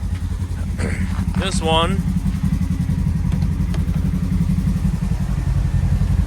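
Stock Polaris side-by-side engine idling at about 183 degrees in below-zero cold, a steady low rumbling pulse close up, with someone briefly speaking over it near the start.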